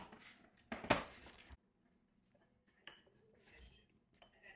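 A spoon mixes cream of rice with chocolate whey protein in a bowl, giving a brief burst of clinking and scraping against the bowl followed by quieter, sparse taps and near silence.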